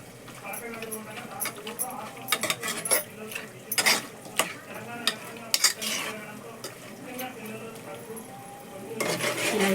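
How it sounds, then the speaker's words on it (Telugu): Chicken for a homemade chicken iguru is stirred with yogurt, ginger masala paste, salt and chili powder, making wet squelching strokes and occasional utensil clinks against a bowl while a voice talks over it. "పెరుగు, అల్లం మసాలా పేస్టు, ఉప్పు, కారం మొత్తం వేసి కలిపి పెట్టాలి"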